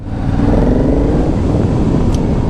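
A 900 cc Aprilia Shiver V-twin motorcycle engine under way while riding, a loud continuous rumbling drone with rushing wind noise and a steady throttle, close to the rider with no speech.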